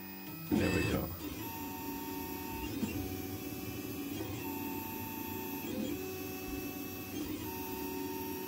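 A 3D printer prints at fine 0.16 mm layer height with a steady motor whine and hum, shifting tones and short stepper chirps every second or so, after a brief knock near the start.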